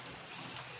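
Rain falls steadily through the night into morning, a continuous soft hiss of drops with no distinct individual hits and no voices.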